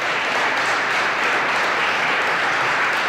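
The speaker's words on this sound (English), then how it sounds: "let's listen to the applause he's getting now" Sustained applause for Kevin Vickers, hailed as a hero, rises from a crowd in a news recording, dense and steady clapping with no break for its full length.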